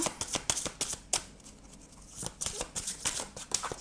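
Tarot guidance cards shuffled by hand in a run of crisp, rapid riffling bursts, with short pauses between flurries, close and fairly quiet.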